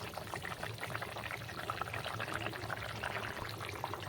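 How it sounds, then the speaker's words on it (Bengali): Fish pieces go into a thin, boiling curry of sweet pumpkin stems and potato, with a steady, close bubbling and liquid churn running throughout and no voices. "তরকারিটা ফুটে উঠেছে, এবার আমি মাছগুলো দিয়ে দেবো।"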